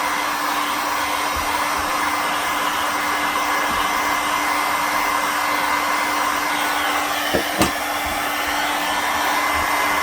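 Hot air rework gun blowing steadily onto an NEC Tokin capacitor to heat it for desoldering before replacing it with tantalum, a constant broadband hiss with a couple of faint clicks near the end.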